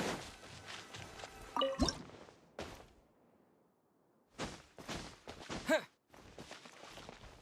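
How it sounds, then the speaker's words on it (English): Water droplets dripping from a wall in the video game Genshin Impact, a few wet squishy drips and splashes heard up close against quiet gaps. "another water droplet just came out from the wall"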